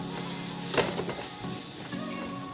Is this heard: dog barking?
no